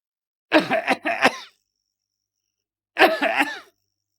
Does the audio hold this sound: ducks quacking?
no